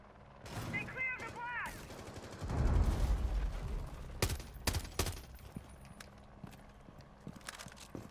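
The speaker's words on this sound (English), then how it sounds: "do you hear that fucking shooting?" Video game gunfire: a few sharp, fairly distant shots crack out in quick bursts past the midpoint, over a noisy, rumbling background with no talking.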